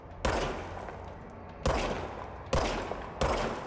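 Service weapon firing in the video game Control, four sharp separate gunshots spaced about a second apart, each with a brief decaying tail, loud against a quiet background.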